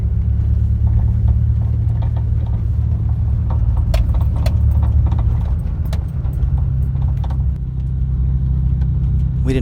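A Subaru Impreza rolls along a rough forest trail in a state forest, its engine a steady loud low rumble, while loose items jangle and rattle in irregular bursts inside the car; no one speaks.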